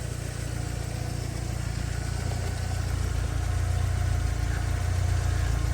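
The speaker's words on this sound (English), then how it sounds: "Nothing like a four-cylinder jumping a V8 first thing in the morning" An old GMC V8 idles steadily after being jump-started from a four-cylinder vehicle on a cold morning, a loud, continuous low rumble running close and unbroken with no voices.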